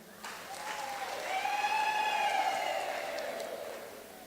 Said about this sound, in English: Clap hands for yourselves.